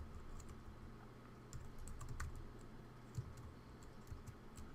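Fast typing on a computer keyboard, a close, continuous stream of light key clicks with occasional heavier taps, quiet and alone without speech.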